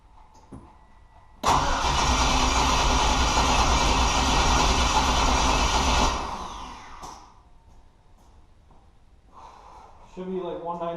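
Engine of a Ford Ranger with an LS V8 swap cranking over on the starter during a compression test, a loud steady churning that lasts about five seconds and then stops, with brief voices talking afterward.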